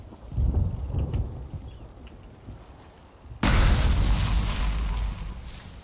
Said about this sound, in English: Thor threw down his lightning and obliterated the stuff